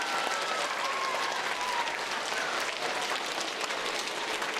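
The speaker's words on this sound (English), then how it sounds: "let's give her a round of applause" Audience applause at an elementary school recognition ceremony: steady, dense clapping from a crowd filling the room throughout, fairly even in loudness.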